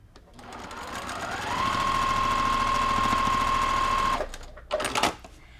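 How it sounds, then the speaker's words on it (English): A sewing machine stitching a quilt block for a flea market quilt made from triangles, running steadily with a whirring hum for a few seconds, then stopping, followed by a couple of brief handling clicks. "right there I need to sew a tiny bit more"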